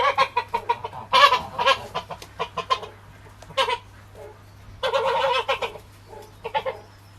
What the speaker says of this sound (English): you're a hand-fed goose